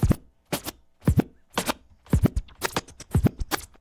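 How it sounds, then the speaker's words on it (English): A DJ performing the slices scratch technique on a turntable, heard as crisp, rhythmic scratch bursts in repeating groups of two or three, close and clear with no talk. "let's go back to what I did in the beginning, the slices"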